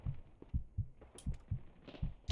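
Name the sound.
heartbeat sound effect in video game BattleBit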